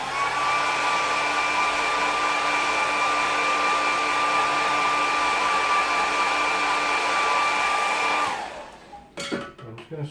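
A hair dryer blows on a wet watercolour painting with a steady, loud whine for about eight seconds, then switches off, followed by a few faint handling knocks.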